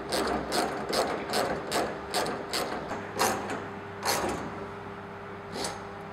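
A ratchet tightens the tie bar bolts onto the main hoop rails of an Exmoor Trim canvas hood and hood stick kit for an 88-inch Land Rover, giving repeated close clicking bursts in an uneven rhythm that slows and spaces out toward the end.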